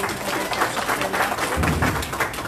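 A church audience claps in brief, steady applause, loud and close, welcoming a pastor.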